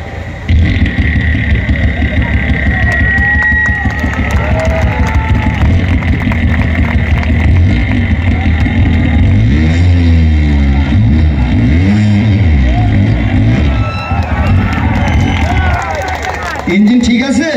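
At a school event, a person's voice imitates a Honda CDI 800 motorcycle engine starting and revving. The loud vocal engine noises rise and fall in sweeping revs over crowd murmur.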